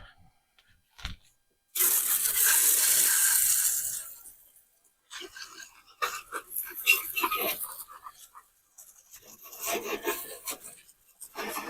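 Water sprays hard across the deck of a Troy-Bilt 33-inch mulching mower during cleaning: a loud, steady hiss lasts about two seconds, followed by scattered splashing and scraping noises.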